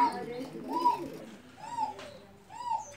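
Pigeons coo in soft rounded calls, three distinct coos spread across a few seconds, nearby and moderately loud, with a hen pigeon suffering from egg binding in the setting and faint background noise between the calls.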